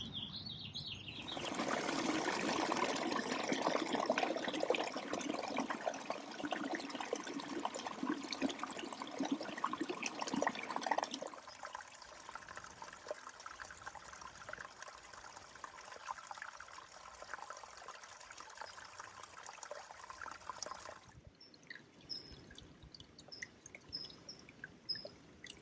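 A Southern California stream flows and trickles steadily nearby, soft and continuous, its burbling shifting to a quieter, thinner trickle partway through, with faint birdsong near the end.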